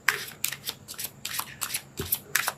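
Tarot cards shuffled by hand in a steady run of crisp riffling bursts, close and fairly loud, with no voices over them.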